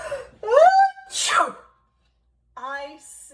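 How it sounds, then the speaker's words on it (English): A voice performs a big, theatrical sneeze: a rising wind-up followed by a loud breathy burst, then a short vocal sound after a pause. "sneezed. A great sneeze."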